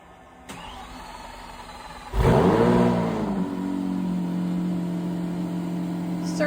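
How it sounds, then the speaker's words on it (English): A Lamborghini Aventador Ultimae V12 cold-starts after an oil change: a starter whir, then a sharp loud flare of revs that settles into a steady, high idle drone, close up. "now is your favorite part, the cold start after the oil change"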